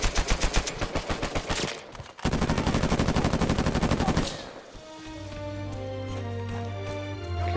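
Rapid automatic gunfire from an Uncharted 4 multiplayer match, with dense bursts of close shots for several seconds, then a break and tonal game sounds afterward.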